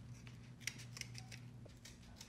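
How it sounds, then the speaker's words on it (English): A worn, dull pair of scissors snips through cardboard during a Lexus IS300 clutch pedal install, giving a few quiet, crisp cutting clicks in a row against a low background hum. "that's probably the worst pair of scissors on the planet"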